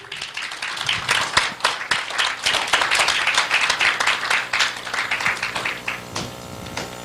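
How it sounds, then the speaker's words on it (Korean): An audience at a Korean civic group's launch ceremony bursts into sustained, brisk applause to welcome a speaker, many hands clapping densely for several seconds before tapering off. "큰 박수로 모시겠습니다"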